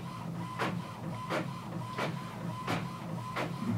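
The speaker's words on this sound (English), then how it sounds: "My printer is now printing them off." Printer running off a sheet of labels: a steady whirring feed with a faint tone and a regular series of rhythmic mechanical clicks, fairly quiet and without speech.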